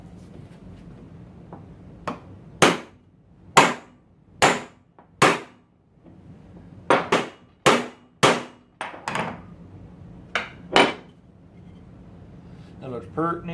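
Bushings being hammered in with a bushing driver set on the pump of an abandoned 1975 C20 truck: sharp metallic hammer strikes, single and in quick pairs, ringing close and loud over a quiet background.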